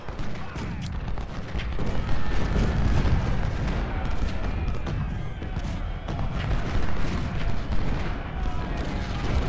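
Cannon and artillery batteries firing in the Ultimate General: Civil War strategy game at the Battle of Malvern Hill, a dense, continuous barrage of overlapping booms and gunfire rolling on without pause, with no talk over it.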